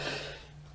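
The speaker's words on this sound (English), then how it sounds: "Still haven't gotten rid of that cough from when I had the flu." A lingering post-flu cough, one short burst near the microphone that fades quickly, with no talk.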